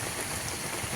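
Steady rain pours down outdoors with a dense, even hiss of drops close by, continuous through the brief moment with no voices.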